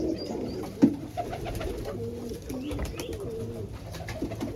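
Pigeons coo softly and repeatedly close by, low rolling calls over a faint background with a brief knock early on.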